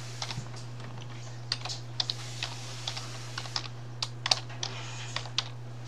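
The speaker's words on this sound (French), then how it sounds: "On retape l'adresse Gmail." Keys tapped on a computer keyboard while an email address is typed in, a quiet series of crisp irregular clicks over a low steady hum, no voices.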